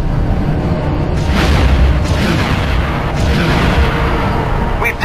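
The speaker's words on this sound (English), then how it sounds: "I need to use my ion guns." Ion guns fire at a transport in the Star Wars Rebel Strike video game, heavy booming blasts rolling continuously under a dense roar of battle, loud and close throughout.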